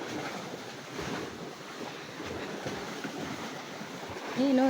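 Sea waves washing in a continuous low rush with wind buffeting the microphone, a steady moderate surf with no voices over it.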